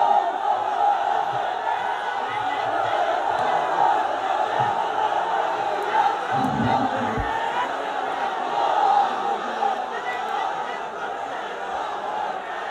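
A crowd at a sermon shouts the takbir chant together, a steady roar of many voices that swells and holds with some distance and reverb behind it.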